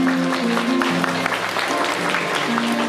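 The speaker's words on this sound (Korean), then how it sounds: "큰 박수 부탁드리겠습니다." Wedding guests at a jazz-band reception at the Glad Hotel in Yeouido applaud steadily for about three seconds, the clapping mixed with sustained jazz instrument tones and some background voices.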